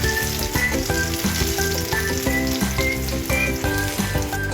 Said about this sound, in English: Pan fry the mashed potatoes until golden to release an irresistible aroma.